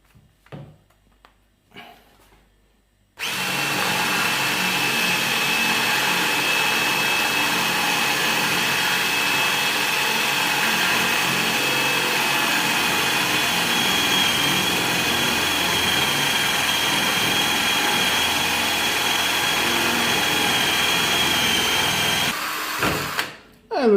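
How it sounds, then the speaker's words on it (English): A Parkside cordless drill spins a 15 mm Forstner bit through a workpiece, a loud, continuous motor whine with a gritty cutting roar that runs unbroken for about twenty seconds after a brief start. "this cordless drill from Parkside. I will start with a small one, the 15 millimeters."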